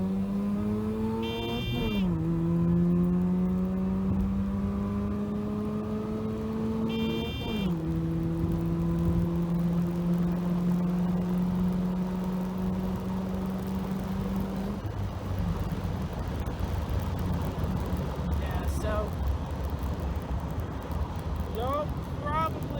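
A 1985 Mazda RX-7 with a swapped 13B rotary engine at full throttle, loud and close, revving up through two gear changes with sharp shifts, then dropping to a lower drone as speech briefly cuts in.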